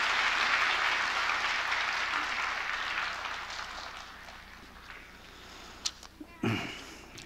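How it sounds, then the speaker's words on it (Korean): A church congregation at a Sunday worship service applauds to bless a child, the clapping strong at first and then thinning out, ending in a few scattered claps and small noises. "우리 박수로 이 아이를 축복합니다"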